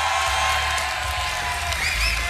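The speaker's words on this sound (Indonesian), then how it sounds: "Tepuk tangan dong sekali lagi." An audience at a school dance performance of Tari Nini Towok claps and cheers in a loud, dense burst, with scattered whoops rising over a steady wash of applause.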